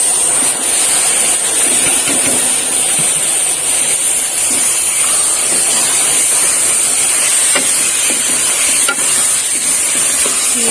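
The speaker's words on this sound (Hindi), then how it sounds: "अब हम इसमें कीमा ऐड कर लेते हैं।" Minced meat (keema) hits hot masala gravy in a pan and sizzles loudly and steadily, a dense continuous frying hiss with occasional stirring scrapes, no talk over it.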